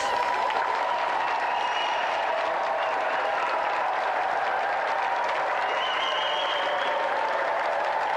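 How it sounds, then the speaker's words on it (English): An audience claps steadily, a dense wash of applause lasting throughout without a break. "let's give him another round of applause anyway"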